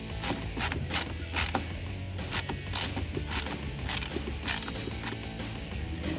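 Rapid ratchet clicks come in repeated close bursts with short pauses as clamps are snugged down on an AFE Magnum FORCE Stage 2 cold air intake on a 2017-2020 Ford F-150 3.5L EcoBoost.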